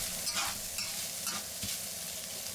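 Ground meat sizzles in oil over medium-low heat for Sichuan mapo tofu, a dense close crackle with soft scraping strokes as it is stirred, and no talk.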